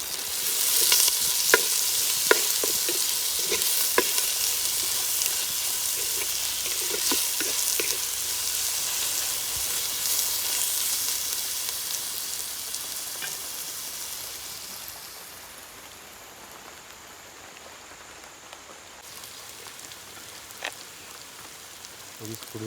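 Wild pork curry fries and is stirred in a pan, Sri Lankan village style, with steady loud sizzling and repeated scraping clatters of the spoon during the first half, then a quieter simmering hiss.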